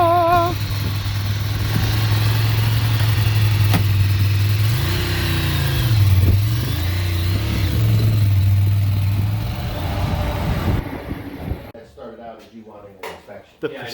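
A 2009 Ducati Monster 696 fitted with a Two Brothers exhaust runs loud and close, its revs rising and falling for about eleven seconds before the engine cuts off into quieter clatter.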